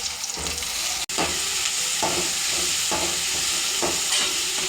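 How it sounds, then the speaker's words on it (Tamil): Chopped onion and tomato fry in a pan with a steady, loud sizzle and hiss, broken by a few soft stirring scrapes and one brief dropout. "வெங்காயம் நல்லா பொன்னிறமாக வதங்கினதும் நம்ம பொடியாக கட் பண்ணி வச்சுருக்க ஒரு தக்காளி ஆட் பண்ணிக்கலாம்"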